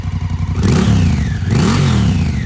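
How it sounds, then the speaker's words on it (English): A car engine revs twice through its stock exhaust, each blip rising sharply in pitch then falling back to a rumbling idle, loud and close. "And here's an exhaust note as well."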